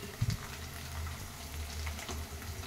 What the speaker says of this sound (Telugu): బఠానీ వేసుకుంటున్నాను. తాలింపు అయితే రెడీ అయింది.